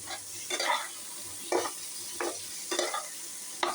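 Chopped tomatoes frying in a pan are stirred in several distinct scraping strokes over a soft, fairly quiet sizzle, close by and with no talk.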